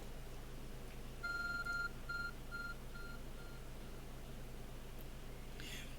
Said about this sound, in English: There's a glowing, beeping object over there. It's my upgraded smartphone.